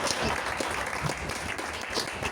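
A church congregation applauds to acclaim the King of kings, a dense, steady wash of clapping from many hands that fills the space without pause.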